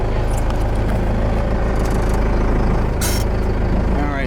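A truck with a 4BT diesel engine rumbles loudly and steadily as it pulls away on a test drive after a steering repair, with a short hiss of air partway through; close and constant, no talking.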